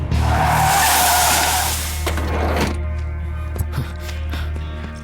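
A car skids to a stop with a loud, sustained tire screech lasting about two seconds, then the noise fades to a low engine idle and scattered small knocks.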